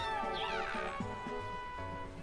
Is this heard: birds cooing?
no